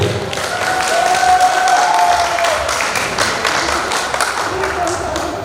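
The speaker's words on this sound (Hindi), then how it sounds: "वहां को कालो से जोरदार ताली बजाई दिनो।" Wedding guests give loud applause during a stage performance at a wedding celebration: dense, close clapping that swells and then gradually thins, with faint voices and other sounds underneath.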